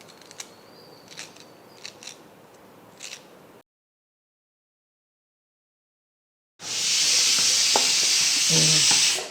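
Scissors snip freshly washed curry leaves and coriander in a home kitchen, a run of crisp, close cuts. A short silence follows, then loud, steady sizzling of frying takes over.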